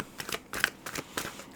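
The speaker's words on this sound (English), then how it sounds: "I feel like we just need to keep shuffling for a little bit longer." Tarot cards being shuffled by hand, a run of quick crisp riffling bursts in an even rhythm, close and clear with no talking.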